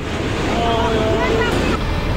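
Floodwater rushes across a road after heavy rain in Sector 5, a loud, continuous roaring wash with heavy wind-like noise throughout.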